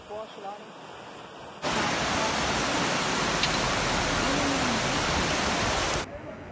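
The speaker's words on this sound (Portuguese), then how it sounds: "caiu cerca de 51 milímetros de chuva em Pouso Alegre" Heavy rainstorm floodwater rushes through a street in Pouso Alegre, Brazil: a loud, dense, unbroken roar of water that cuts in abruptly and holds for several seconds, with faint voices before it.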